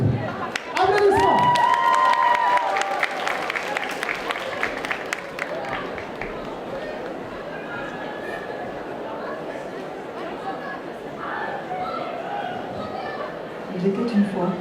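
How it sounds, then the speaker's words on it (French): Audience applause and cheering at a cosplay contest in a hall, a loud crowd clapping at first and then settling into chatter and murmuring, with a voice speaking over it. "Applaudissements."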